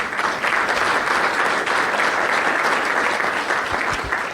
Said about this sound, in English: So why don't we give them a quick round of applause?